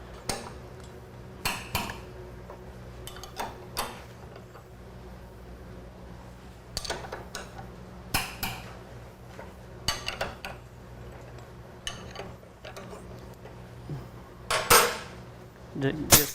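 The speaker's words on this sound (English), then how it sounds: "Now we're going to remove the shock bolts" Metallic clanks and taps from tools while shock bolts are removed on a 2011 Harley Davidson Street Glide, scattered irregular knocks and clinks at close range, with a louder rattling burst near the end.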